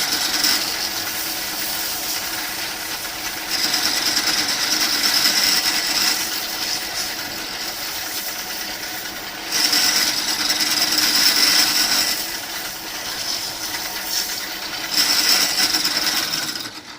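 Emery cloth of 400 grit rubbing along a ferro rod, polishing it smooth: a steady raspy scraping in three long strokes separated by brief softer pauses, close and fairly loud, with no talking.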